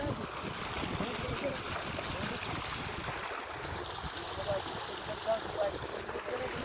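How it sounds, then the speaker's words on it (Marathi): Irrigation water flows steadily into a furrow in a sugarcane field on a village farm. The rush is soft and constant, with faint murmuring voices in the background. "असं चालू आहे पाणी सरीला."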